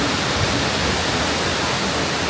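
Steady, loud roar of a waterfall in China heard up close, a continuous broadband rush of falling water with no pauses.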